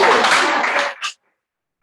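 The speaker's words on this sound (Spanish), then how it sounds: "Un aplauso para el licenciado Manos." Short burst of applause from a workshop audience for a speaker, dense clapping for about a second that stops abruptly, then a brief sound and near silence.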